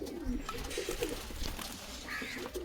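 Low, murmuring coos from an Andhra pigeon, a bad-tempered loft bird, repeat in short pulses over a hiss of background noise, close by and fairly quiet.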